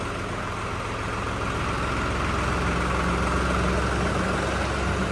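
A new New Holland tractor, a small 40 hp special edition, idles close by with a steady, unbroken low diesel rumble and no talking over it.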